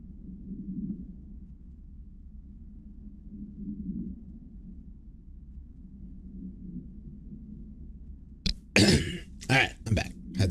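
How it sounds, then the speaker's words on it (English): A person clears their throat in a few rough bursts close to the microphone, following a long stretch of low, quiet background rumble. "Had to clear my throat there"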